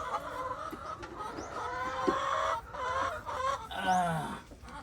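Free-range chickens clucking close by on a backyard farm, a run of overlapping clucks and short calls with no talking.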